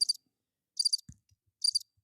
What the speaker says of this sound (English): talk about crickets